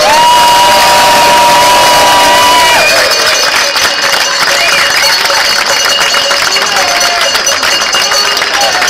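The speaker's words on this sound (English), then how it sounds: "Ladies and gentlemen, a massive round of applause, Murray Rowe!" Crowd applause and cheering at the Cobble Wobble 2013 prize ceremony, a loud, dense wash of clapping and shouts that runs steadily throughout, with an announcer's voice briefly audible near the start.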